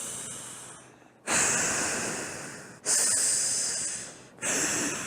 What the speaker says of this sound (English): many times people practice it, inhale and exhale is with sound, with force